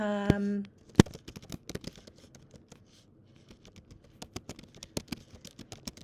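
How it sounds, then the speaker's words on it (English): A question typed quickly on a computer keyboard: a burst of brisk, uneven key clicks follows a short tone at the start, close and fairly quiet. "So I'm going to type in a question here really quickly."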